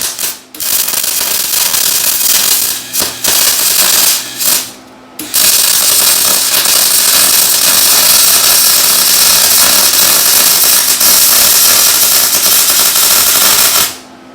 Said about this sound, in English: Start welding this stuff up